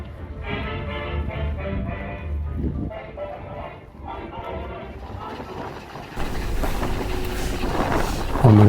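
A heritage train on the Severn Valley Railway during a 1940s weekend rumbles along with a steady rolling noise and wind buffeting, growing louder near the end, while people talk over it.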